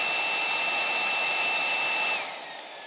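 A hair dryer blows a steady stream of air upward under a floating ping pong ball, a continuous close whirring hiss that tapers off and drops in level near the end.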